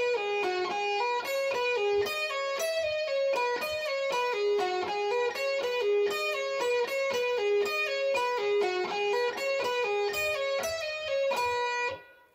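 Electric guitar runs a rapid pentatonic lick built from one phrase, a second phrase, then the first again, with quick even picked notes, clear and close with no other sounds, ending with a brief fade.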